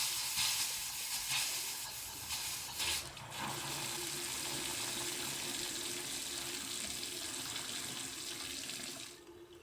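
Water rushing steadily from a house faucet as a refilled water heater pushes air and water through the line, a continuous hissing spray with sputtering at the start, lasting several seconds before tapering off.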